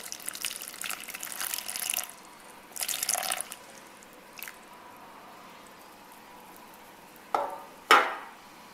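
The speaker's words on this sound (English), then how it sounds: "So I'm going to put a water here, a little bit." Water poured from a small container onto the cocoa peat of a tomato and basil grow kit, a few bursts of splashing and trickling separated by pauses, ending with a couple of sharper drips and splashes nearby.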